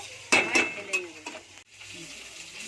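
Moong dal dry roasting in a pan gives a crackling, hissing sizzle with several sharp stirring scrapes in the first second and a half, then a steadier low hiss.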